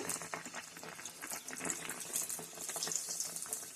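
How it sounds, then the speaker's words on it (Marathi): Sabudana vada frying in oil: a close, continuous bubbling sizzle with fine crackles and pops, steady and unaccompanied by talk. "आपण छान तेलामध्ये साबुदाणा तळून घ्यायचा"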